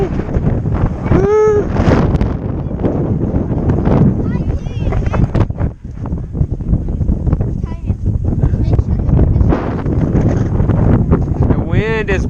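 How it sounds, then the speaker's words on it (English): Strong wind blows across an open hilltop, roaring and buffeting the microphone continuously for the whole stretch, with voices talking and calling out under the gusts. "The wind is blowing,"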